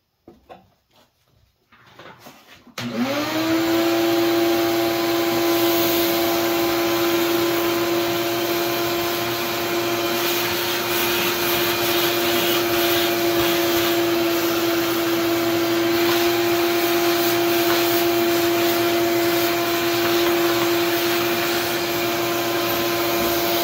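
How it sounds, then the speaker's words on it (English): A shop vacuum starts up after a brief quiet moment and then runs at a steady, loud whine without pause while cleaning out drilled bolt holes. "We got to vacuum them out, tighten them two bolts off."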